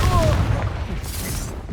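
A Confringo explosive spell cast in combat in the Hogwarts Legacy video game, played on Xbox Series X: a loud, dense, booming blast with rumbling low energy that fills the short moment, close and continuous.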